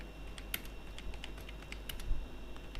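Quiet, irregular keystrokes on a computer keyboard, a run of light clicks and taps at close range with no voice over them.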